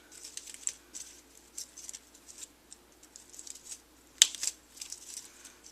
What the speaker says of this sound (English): I'm going to use my Tim Holtz scissors and just clip these off right at the edge there.